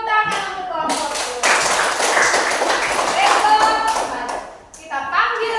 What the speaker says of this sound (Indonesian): Tepuk tangan untuk kelompokku.